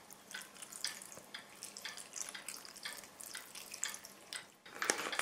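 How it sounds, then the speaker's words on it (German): Pepperoncini juice is poured into a vegetable bake, a soft splashing trickle with small drips that runs steadily and close, with no voices. "gebe ich ein wenig Peperonisaft hinzu."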